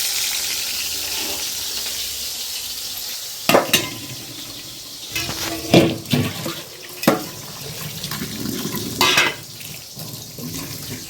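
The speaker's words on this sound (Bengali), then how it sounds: "কড়াইটা ধোবো," A kadai wok being washed under a running kitchen tap, with water streaming steadily and several loud clanks and scrubbing bursts in the middle as the pan is handled.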